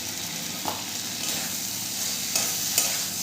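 Okra being stirred with salt in a pan, a steady close scraping and soft sizzle with a few sharp spoon knocks against the metal, no voices.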